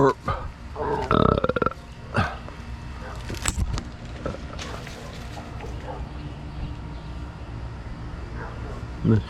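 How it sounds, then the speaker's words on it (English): A single loud, close burp with a guttural rasp near the start, followed by scattered handling noises and a steady low background rumble. "Burp."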